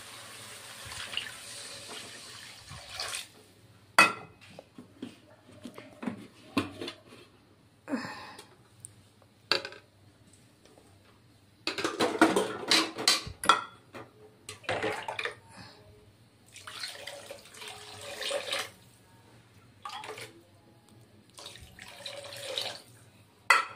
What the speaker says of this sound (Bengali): আমি এখন জল দিয়ে দিচ্ছি বন্ধুরা।